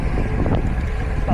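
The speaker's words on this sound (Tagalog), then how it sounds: "Taas ng hangin." Strong wind buffets the microphone while riding on an open route outside Meydan, a loud continuous low rumble and roar with no talk.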